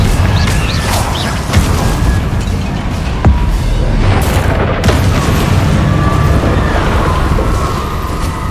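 A Confringo fire spell explodes in Hogwarts Legacy, a loud, dense boom with crackling debris under sustained roaring game noise, with a sharp impact near the middle.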